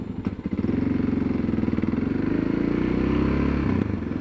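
Engine of a 2013 Yamaha MT-03, a big single-cylinder motorcycle, thumping steadily and close while being ridden, a loud pulsing throb that builds and then eases at the end.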